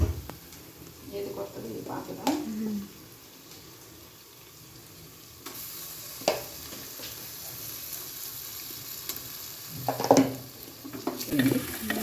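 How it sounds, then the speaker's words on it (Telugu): Ginger-garlic paste frying in a pan for mutton curry gives a quiet, soft sizzle, broken by a few clattering stirs and scrapes of a spoon. "అల్లం వెల్లుల్లి పేస్ట్ మంచిగా ఫ్రై అయ్యింది."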